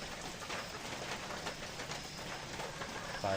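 Early morning rain falls steadily at about six o'clock, a soft continuous hiss of drops on surfaces, faint and even throughout with no talking.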